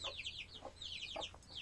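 Backyard chickens near a henhouse, with a hen giving a run of quick high clucks and squawks, close and fairly quiet, over a low steady hum.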